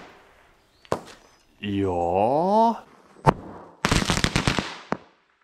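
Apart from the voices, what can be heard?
firecracker exploding on a carpet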